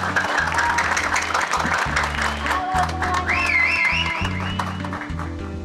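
An audience claps steadily as a guest star takes the stage, the dense clatter riding over pounding bass-heavy music, with a few high cheers or whistles rising midway.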